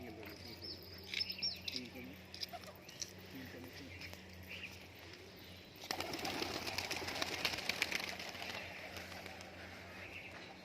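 Crested pigeons in a loft call with soft coos and chirps, and a rush of flapping wings follows midway, while someone talks over them.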